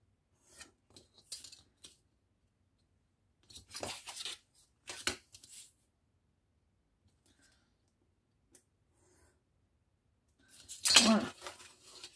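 Scissors snip through material for a 3D arcade game model in a few short, close bursts of cutting and rasping, separated by quiet pauses, with one louder rustling cut near the end.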